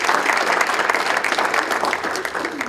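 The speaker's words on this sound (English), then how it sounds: "let's give them another round of applause" Dense, steady applause from an audience at a panel discussion event on English learners, a continuous wash of many hands clapping at even loudness throughout with no voices standing out.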